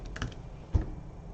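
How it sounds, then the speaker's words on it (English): A few quiet clicks of keys on a computer keyboard as numbers are entered into an Excel spreadsheet, a short cluster early on and a single sharper tap later, close and soft with no talk. "I can type an amount"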